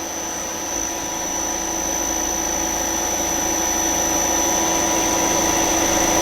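A metal lathe driven by an electronic lead screw spins up to a higher speed, giving a steady, loud machine whir with a constant high whine. The drone rises slightly over a few seconds and carries on without a break, with no talk over it.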